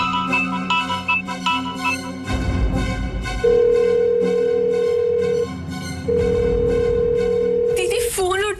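A telephone call rings out unanswered, with steady repeating ringing tones held over a dramatic musical backdrop, loud and close.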